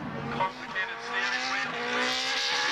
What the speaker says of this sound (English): The race 1 winner is fired up again, and tyre warming begins immediately.